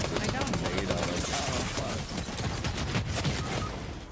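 Dense, rapid Fortnite gunfire crackles nonstop at close range, with voices talking over the shooting.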